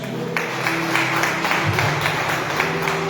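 A church congregation clapping for Jesus during a worship service, a rapid patter of many hands over a sustained background tone, even and fairly loud for a few seconds.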